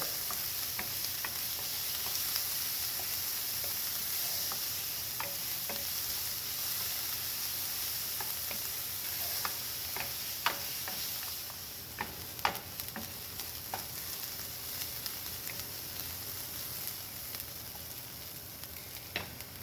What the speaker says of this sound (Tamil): இப்போ நான் வெங்காயத்தை சேர்த்து வதக்குறேன்